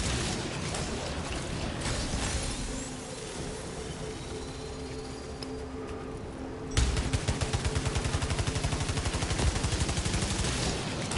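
Gunfire in the PS5 video game Returnal, with a dense layered rumble of shots that breaks into rapid, evenly spaced automatic bursts for the last four seconds.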